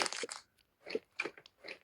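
Crunchy food is chewed close to the microphone for ASMR, giving several crisp crackling bites in separate bursts with short quiet gaps between them.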